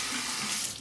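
Tap water running steadily into a sink while rinsing a razor during a wet shave, a close, even hiss of flowing water with no talking.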